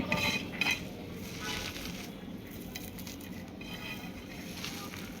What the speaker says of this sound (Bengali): এখন আমি ভালো করে একটু মেখে নিচ্ছি একদম